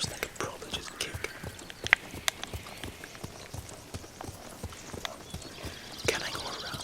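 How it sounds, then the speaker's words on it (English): Rapid rhythmic hoofbeats of a galloping horse in a video game, a steady clip-clop with a brief whinny, under quiet whispered talk. "Yeah, run, you horse. Run."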